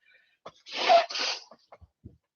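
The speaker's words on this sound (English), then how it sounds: "I start to sneeze when I channel." A single loud, close sneeze bursts out alone in a quiet room, followed by a few faint breaths and small mouth sounds.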